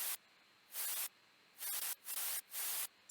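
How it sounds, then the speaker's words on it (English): Bursts of harsh white noise switch on and off, four hissing blocks separated by near-silence, with no pitch. "what I really like to add to give it like a lot more texture is white noise"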